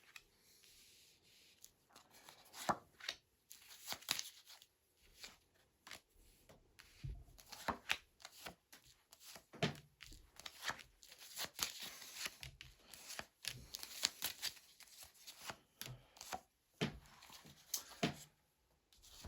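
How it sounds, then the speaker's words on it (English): Tarot cards are shuffled repeatedly at close range, soft riffling and tapping bursts in an uneven rhythm with brief pauses between. "I'm just going to give the cards a good shuffle"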